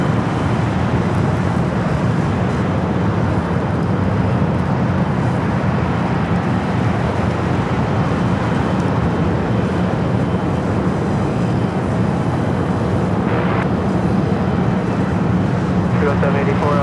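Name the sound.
airplane taking off at Los Angeles airport (LAX)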